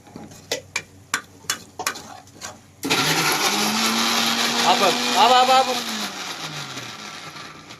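A mixer grinder roars into a loud, steady whir as it grinds tomatoes and green chillies, after a few sharp taps. A voice talks over the motor.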